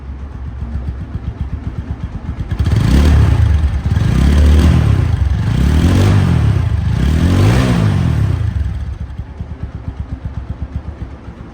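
A motorcycle engine idles, then revs up loudly in four rhythmic surges before dropping back to a ticking idle; no one speaks.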